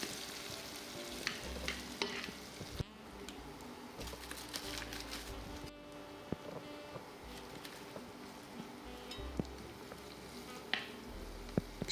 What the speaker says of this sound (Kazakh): Қызып тұрған табаға май құйып, пиязымызды жұмсарғанша қуырып аламыз.